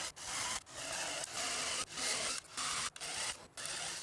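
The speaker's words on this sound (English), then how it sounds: "we'll just drill out 8 holes that are 1/2 inch deep on our top and bottom boards" A drill bores half-inch-deep holes into wooden top and bottom boards for a homemade lantern, heard as a close, loud rasping whir in repeated half-second bursts with brief pauses between them.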